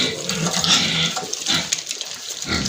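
Piglets on a pig farm grunt and squeal close by while feeding, a busy overlapping chorus of short snorts and squeals that runs continuously.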